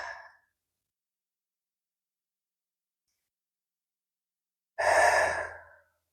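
A single long exhale during a yoga pose, soft and close, follows near-silence after a faint breath at the very start.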